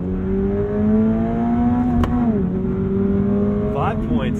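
A 2022 Subaru BRZ with a manual gearbox accelerates hard toward 60 mph on a slight downhill. The engine drones loudly and rises steadily in pitch, dips briefly at a gear change, then climbs again. It sounds close, as if heard from inside the car.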